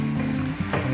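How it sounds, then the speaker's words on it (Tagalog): White beans and beef pata sauté in a hot pan with onions, giving a brief, steady, close sizzle over a low hum. "Pagigisa natin ito"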